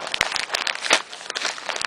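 A plastic bag of store-bought smokehouse wood chips is handled up close, giving loud, irregular crinkling and crunching rustles with sharp snaps, no voices.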